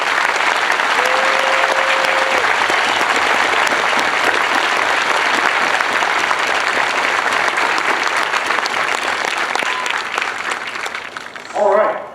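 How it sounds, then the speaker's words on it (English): Loud, sustained applause from a large crowd at an Air Force Basic Military Training graduation parade, steady for about eleven seconds before tapering off, with a brief faint voice near the end. "Please join me in applauding the MTI Corps."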